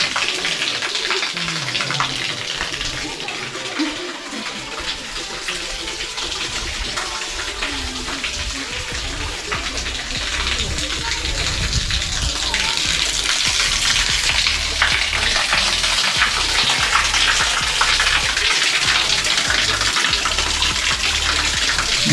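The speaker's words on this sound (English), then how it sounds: "Natural water coming from the hilltop and it falls over here." Natural water falls from a hilltop at Antharagange, Kolar, making a steady, dense splashing rush. The sound grows slightly louder toward the end and runs throughout with no pause.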